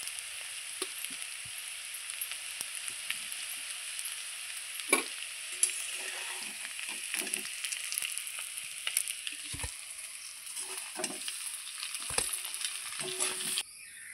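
Pieces of gathi kochu (taro) fry in hot oil with a steady, close sizzle, while occasional stirring scrapes and knocks punctuate the continuous crackle.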